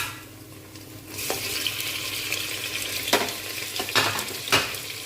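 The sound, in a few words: chopped tomatoes added to onions frying for mutton curry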